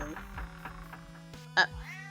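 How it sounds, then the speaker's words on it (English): A cat meows once, short and clear, in the video game 1001 Nights, heard over a steady backdrop of game music. "Hello, kitty cat."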